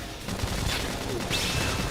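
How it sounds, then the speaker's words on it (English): Gunfire in the game Xenoblade Chronicles X: Definitive Edition, a dense, steady spray of shots with whooshing sci-fi effects layered over the top, heard as continuous game audio. "We can just topple them with gunfire."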